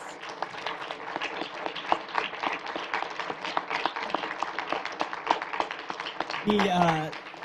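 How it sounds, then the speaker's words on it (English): Audience applause closing a city council candidate forum, a scattered patter of many hands clapping at moderate distance, ending in a brief burst of voices and noise. "Please join us in a round of applause for all of the candidates."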